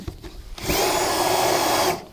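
A few light knocks, then a power drill with a tile bit starts up and grinds steadily into a roof tile for over a second before stopping.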